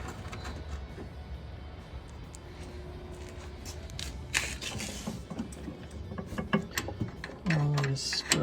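Bolts are fastened on a VW engine during an engine swap, with small metallic clicks, ratcheting and rattles close by and a short scrape near the end, while a voice talks briefly.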